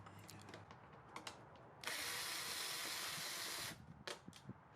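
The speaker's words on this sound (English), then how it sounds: "reveal this one little 8mm bolt that needs to come out on each side" Ratchet wrench backing out a small 8mm bolt on the tail section of a Kawasaki Ninja 400, a steady close-up run of rapid clicking lasting about two seconds, framed by a few scattered handling taps before and after.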